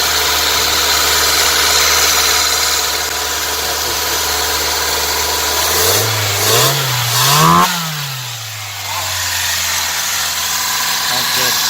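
A Toyota AE82 Corolla engine idles steadily, then is blipped through two or three quick revs with a deep exhaust tone before settling back to idle, loud and close, with a voice speaking over it.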